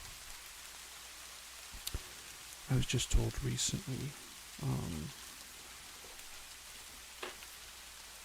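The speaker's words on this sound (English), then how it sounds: "Sounds a little loud on the rain." Steady, soft rain patters through a bamboo forest and continues evenly the whole time. Someone talks quietly in short phrases over it.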